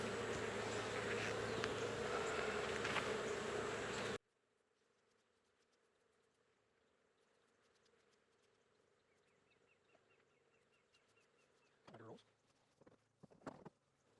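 A calm honey bee colony buzzes around an open hive during a honey harvest. A loud, dense hum fills the opening seconds, then drops to a faint buzz with a few close knocks and handling noises near the end.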